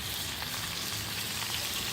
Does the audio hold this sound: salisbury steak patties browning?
yes